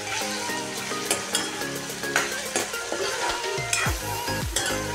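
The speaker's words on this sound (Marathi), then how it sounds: "काजू छान असं फ्राय करून घ्यायचं आहे।" Cashews frying in a pan, with spatula stirring scrapes and clacks over a steady close sizzle, set against a sustained tonal musical background.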